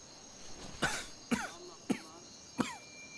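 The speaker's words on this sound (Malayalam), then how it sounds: "എന്താളിയാ ഭയങ്കര ചുമയാണല്ലോ" A heavy smoker's cough comes as four sharp, separate hacks spaced about half a second apart, fairly close over a faint background hum.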